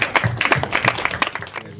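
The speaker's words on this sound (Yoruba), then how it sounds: "Gbogbo èèyàn ẹ pàtẹ́wọ́ fún Olódùmarè." Congregation members clap together in a steady rhythm, about three claps per second, at a Yoruba traditional religion gathering. The clapping is close, crisp and fairly loud, with faint voices underneath.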